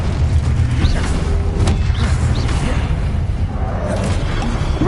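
Loud, dense magical blast of the Confringo spell in the Hogwarts Legacy video game, a booming rumble with whooshing and crashing debris that fills the clip continuously.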